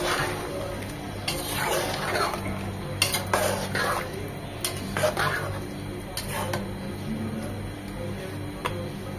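Boiled milk is poured over chicken in a pan and stirred, giving soft scraping and clinks of a utensil against the pan over a low, steady background.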